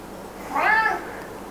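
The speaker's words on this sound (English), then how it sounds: "Bradley, we can hardly hear anything over your meowing." A single short, clear meow, close and moderately loud, over a faint background hiss.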